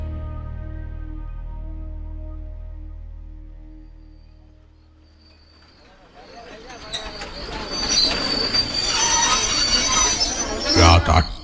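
A train arrives at Canning station at night in a Bengali suspense story, first as a low rumbling hum, then swelling into a loud, busy clatter of wheels and rail noise with squeals over the final seconds.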